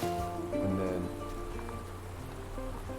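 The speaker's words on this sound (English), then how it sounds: "I hear the crystal raindrops fall" Heavy rain pouring down in the game Minecraft, a continuous, fairly loud wash of falling drops that holds steady throughout with no talk, while tonal game sounds or music hum underneath.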